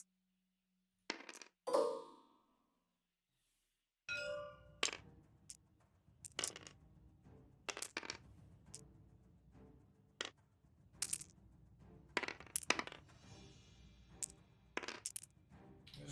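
Dice clattering during a tabletop wargame, several short sharp rattles and clicks scattered across a quiet room, loud and close with pauses between rolls.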